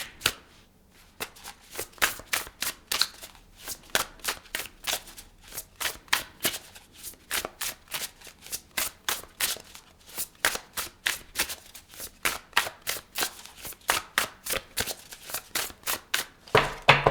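Tarot cards are shuffled close up in a fast, steady run of crisp riffling snaps that continues for the whole stretch, with no talking.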